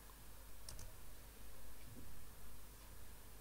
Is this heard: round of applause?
no